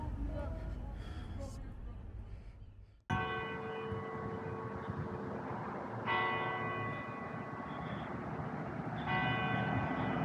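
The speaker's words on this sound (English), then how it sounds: "They got a church with church bells and everything." Church bells ring out in a seaside town, sustained tolls with long ringing overtones that restart twice after a sudden loud onset, heard over outdoor background noise and nearby talking.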